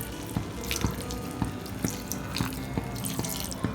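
Water pouring and splashing steadily into a pan of tomato thokku, with a continuous watery rush and small rhythmic drips and clinks close by.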